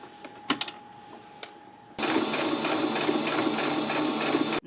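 Domestic sewing machine stitching glued fabric pieces during a beginner's lesson, running steadily and fairly loud for a few seconds after a quieter stretch of faint clicks and handling noises.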